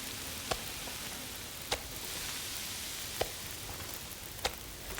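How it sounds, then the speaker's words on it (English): Meat sizzles over a campfire in the survival video game The Long Dark, a faint, steady crackling hiss with a few sharp pops spaced about a second apart. "Listen to that meat sizzling in the background."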